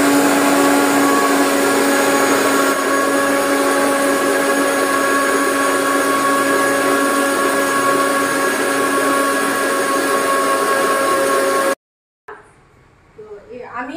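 An electric grinder whirs steadily as it blends spices with water into a paste for a sieve fish curry, a loud continuous motor hum lasting nearly twelve seconds before cutting off abruptly, followed by quieter kitchen noise.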